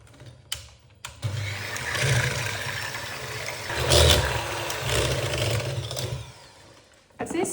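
An electric mixer whirs steadily for about six seconds through cake batter of milk, vanilla sugar, baking powder, sugar and oil for an apple cake, starting and stopping with soft clicks.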